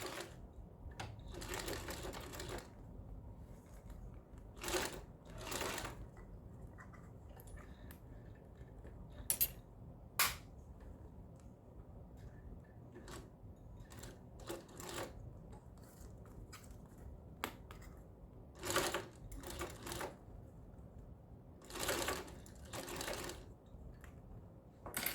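A sewing machine stitching fabric for a handmade bag, running in short separate bursts of rapid mechanical whirring with quiet pauses between them, fairly faint and close by.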